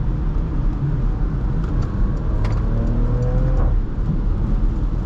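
Porsche Macan S engine pulling hard under acceleration from inside the cabin, a sustained deep drone with rising pitch, heard alone without talk.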